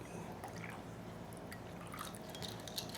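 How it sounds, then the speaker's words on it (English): Water is poured into a homemade sesame chicken sauce, giving a steady, close liquid pouring and dripping sound for about three seconds with no talking. "forgot one key main ingredient onto the sauce, which is water"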